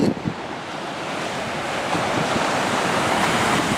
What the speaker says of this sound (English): You can see the water hitting the rocks out there.